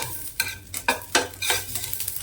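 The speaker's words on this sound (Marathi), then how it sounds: "तो सुद्धा चांगला भाजून घ्यायचा" Garlic cloves stir-fried with lightly browned onion in a pan for a Maharashtrian green-chili brinjal dish, a steady sizzle broken by several loud spatula scrapes and stirs, close and without talk.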